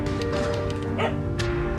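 A puppy barks in a few short, sharp yips, close and fairly loud over a constant droning hum.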